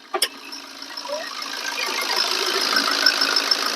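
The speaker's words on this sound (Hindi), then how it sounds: "ये प्योर डीजल इंजन की आवाज है।" A Maruti Swift Dzire's diesel engine idles with the bonnet open, a steady mid-to-high mechanical hum and clatter that builds slightly after a couple of brief knocks at the start.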